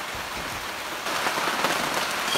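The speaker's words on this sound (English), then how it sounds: "Well, it's properly raining" Steady rain falls outdoors on a half-built off-grid cabin roof with rafters and a tarp, a dense even hiss that grows slightly heavier midway, with no voices.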